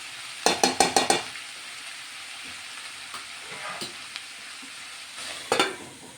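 A spoon scrapes and knocks against a pan while cabbage and chana dal curry is stirred, a quick burst of five sharp clinks first, then softer scattered stirring and sizzling, and another pair of clanks near the end.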